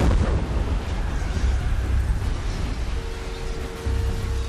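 A planted charge set off to stop a prison transport in the video game PayDay: The Heist detonates in a loud burst, followed by a long rumbling roar and debris that stays heavy throughout.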